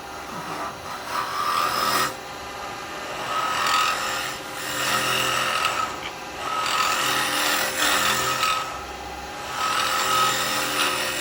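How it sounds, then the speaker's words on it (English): A carbide woodturning tool cuts into a spinning wooden workpiece on a lathe, with a steady scraping, rasping hiss. It runs continuously throughout, swelling and easing in several passes with short dips between cuts. "the carbide really is just the best tool to do the job"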